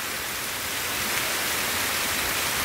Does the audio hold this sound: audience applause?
no